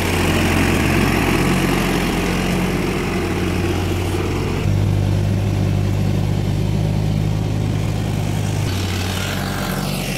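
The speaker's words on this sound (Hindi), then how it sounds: "ट्रैक्टर बड़ा जोर लग रहा ड्राइवर का भी," A tractor engine labours hard hauling a loaded trolley up a steep slope, a loud, steady low drone that deepens and swells midway as the load strains, continuing alone without talk throughout.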